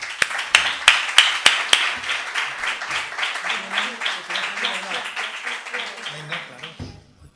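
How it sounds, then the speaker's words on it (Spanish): Audience applause at a flamenco tribute conference, with dense clapping that starts strong with a few sharp claps, holds steady for several seconds, then fades out toward the end. "Fuerte aplauso para Esperanza."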